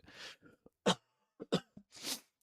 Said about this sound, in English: this cough this morning's getting to me